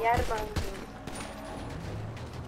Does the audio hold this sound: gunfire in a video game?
yes